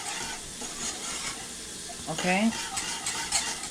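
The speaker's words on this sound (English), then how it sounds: "I want you to see that I am cooking this now, constantly stirring." Banana pudding being stirred in a pot on the stove, a soft steady scraping and bubbling sizzle that grows a little louder partway through, with a brief spoken word.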